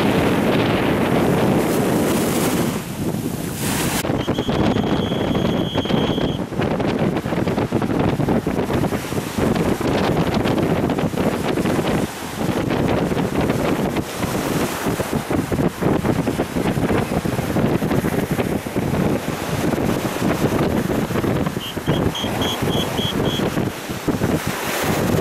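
Rough sea waves crash continuously on a beach at Sharm el-Sheikh, Egypt, with strong wind buffeting the microphone throughout; brief high whistle-like tones sound twice.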